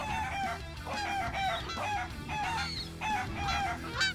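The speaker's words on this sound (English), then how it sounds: "Oh, it's a chicken." Clucking and squawking from a chicken in the Animal Fight Club video game, a string of short bright calls repeating over a steady game backdrop, fairly loud and close.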